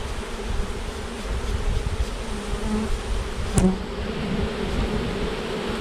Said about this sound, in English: we're just gonna flick those bees back down in that hive real lightly